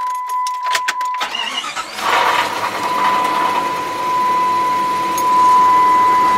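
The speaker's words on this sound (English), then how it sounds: "Now we turn it on, we listen to the engine." A car engine cranks over after new spark plugs are fitted, catches around the two-second mark and settles into a steady, slightly uneven idle with a faint high whine. No one speaks.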